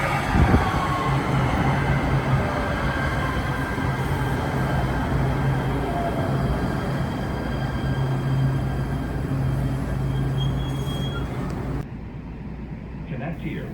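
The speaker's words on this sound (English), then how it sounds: "Oh my god, train sighting." An LA Metro light rail train rumbles steadily past with broadband rolling noise and faint high squeals, a passenger voice talking excitedly over it, before the sound drops off abruptly near the end.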